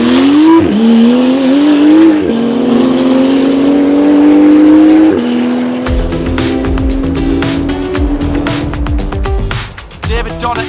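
Porsche race car on the Pikes Peak hill climb, loud engine revving through rising gear pulls with a brief tire squeal, then a harsher roar with crackles as the car pulls away.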